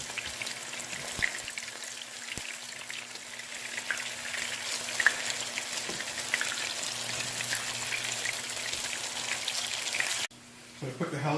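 Hashbrown patties fry in a pan with a steady, close sizzle and crackle that drops off abruptly near the end.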